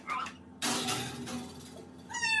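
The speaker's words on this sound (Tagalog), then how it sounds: "Meow, may pusa ako sa ilalim ng mesa." A cat under a kitchen table gives a couple of short meows, fairly faint and close, separated by a burst of broadband noise.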